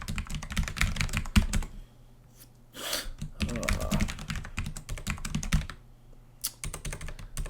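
Typing HTML code on a computer keyboard, fast irregular clicking close by, broken by a couple of short pauses, with no talking.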